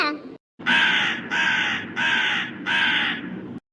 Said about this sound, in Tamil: அட என்னது இது போன காக்கா திரும்பி வந்திருக்கு